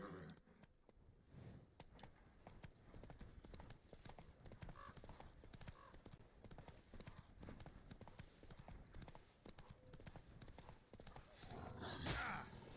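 Horse hooves galloping in The Witcher 3, a quiet, rapid clip-clop rhythm that runs steadily throughout, with a brief whinny and a louder rustling swell near the end.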